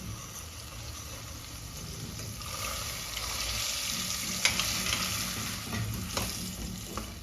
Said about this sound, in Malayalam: ഇനി ഇതിലേക്ക് വേവിച്ച് വെച്ച കടല ഇട്ട് കൊടുക്കാം